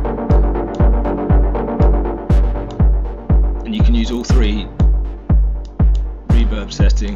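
Dub techno chord stabs from an Ableton instrument rack drenched in reverb, repeating about every half second in a steady throbbing pulse with long decaying tails, loud and alone.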